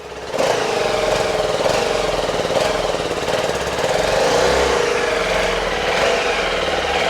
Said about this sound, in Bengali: ওকে, হালকা রেভ কর।